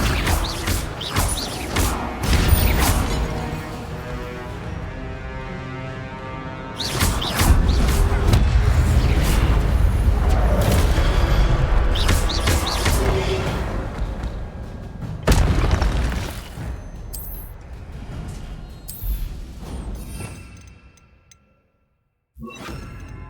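Spell effects from the Hogwarts Legacy video game, including Protego, Accio and Incendio casts: loud booms, whooshes and crashing impacts in dense bursts over a steady game soundscape, with a brief near-silent gap at the end.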